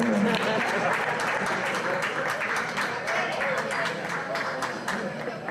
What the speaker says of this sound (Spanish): Un aplauso por los chavales.